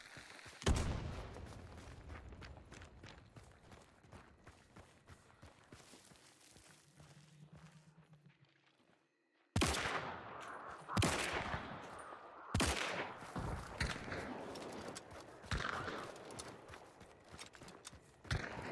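Guns fire in the shooter Hunt Showdown: sharp loud shots in irregular bursts, with clattering footsteps and rustle between them, a quiet lull in the middle, then several heavy close blasts.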